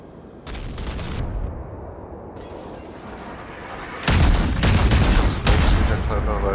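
Warship guns firing in the video game World of Warships, a destroyer battle: heavy booming salvos arrive in bursts, a pair early on, then a louder sustained barrage in the second half, over a steady rumbling engine bed.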